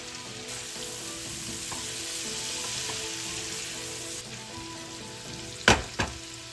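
Shrimp sizzle and fry with onions in a pan, a steady close crackle running throughout, broken near the end by two sharp clattering stirs.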